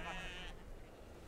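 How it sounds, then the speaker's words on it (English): A sheep bleats once, loud and close, outdoors on a trail on Madeira, with a voice talking faintly in the background. "I think they're sheep."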